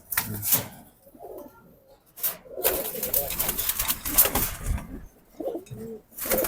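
Jabra Pankhi pigeons coo close by in low throaty bursts, mixed with scuffling and rustling handling noises.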